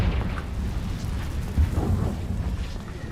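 A Confringo fire blast spell cast in Hogwarts Legacy, a deep rumbling boom with a low burst near the middle, rolling and crackling like distant thunder, heard alone without talk.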